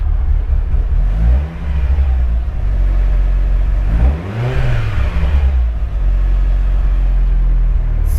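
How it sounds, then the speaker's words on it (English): Car engine held at idle with two distinct revs, one brief around 1.5 s and a stronger rise and fall near 4.5 s, a loud close rumble throughout with no talking. "I'll just give it a little bit of a rev"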